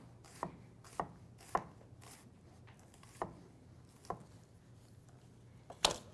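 A knife chops vegetables into small quarter-inch pieces on a board: about seven sharp, separate knocks at uneven intervals, close and fairly quiet, with no one speaking.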